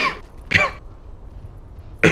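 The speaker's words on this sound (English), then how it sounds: "I need to clear my throat out." A commentator during a Dota 2 esports qualifier match coughs and clears his throat in two short, close bursts separated by a quiet pause, with no speech.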